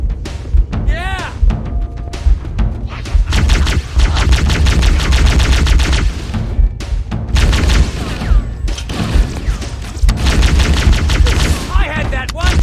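Dense, continuous gunfire and booming weapon blasts in Halo: Combat Evolved, rapid automatic bursts that persist throughout with loud low rumble, mixed with excited voices shouting over the shooting.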